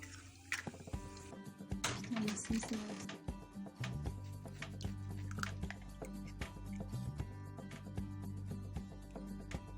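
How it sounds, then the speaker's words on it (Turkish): Liquid ingredients for cheese cookie dough being mixed in a bowl, a steady wet churning with squelching and clinking that grows fuller and louder after a few seconds, continuous and close. "bütün sıvı malzemelerimi karıştırıyorum önce."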